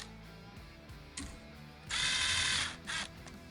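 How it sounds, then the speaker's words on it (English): A quarter-20 bolt is threaded by hand into a rivnut set in metal, giving faint light clicks followed by a sustained grinding, ratcheting burst and a shorter second burst, close and quiet, with no talk. "we'll take a quarter 20 bolt and it started easily by hand"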